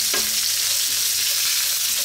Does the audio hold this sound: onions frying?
yes